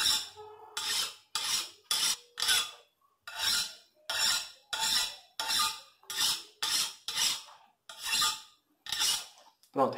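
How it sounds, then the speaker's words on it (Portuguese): A brand-new steel file rasps across a tempered knife blade in about fifteen short, even strokes, each a bright, gritty scrape, close and alone with brief pauses between. "Desliza totalmente uma lima bem nova."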